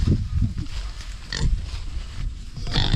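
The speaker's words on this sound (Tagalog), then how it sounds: "mag-iingay at mag-iingay ang baboy na yan." A pig on a farm grunts repeatedly up close, a string of low rough snorts with short pauses between them.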